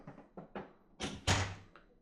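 A door aboard a 42 m motor yacht, leading into the master suite, is worked by hand: a series of close knocks and rattles, then a louder thunk as it shuts, with no voices.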